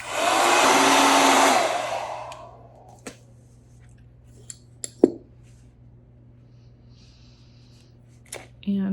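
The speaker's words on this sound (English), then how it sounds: "Another hit with the blow dryer." A blow dryer drying a gel plate print roars loudly and close for about two seconds, then cuts off, leaving a quiet room with scattered clinks and light handling noises.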